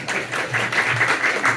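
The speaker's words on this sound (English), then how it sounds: "Give yourselves a round of applause." A burst of crowd applause, steady clapping from many hands filling the whole moment at moderate loudness.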